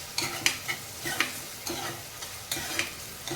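Chicken coated in turmeric stirred in a hot frying pan for a spicy Telangana chicken fry, with repeated scraping strokes of the spoon over a steady sizzle, close and alone.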